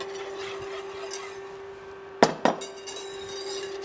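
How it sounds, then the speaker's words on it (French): A utensil stirs milk into crème anglaise in a saucepan: a soft scraping swirl over a steady hum, then two sharp metallic clinks against the pan close by. "je mélange tout de suite et je reviens dans la casserole pour cuire ma crème anglaise"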